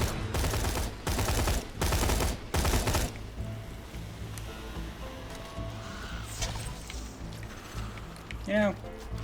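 Rapid video-game gunfire from Borderlands 2 bursts out in four loud, dense volleys over the first three seconds, then gives way to quieter game ambience with scattered effects.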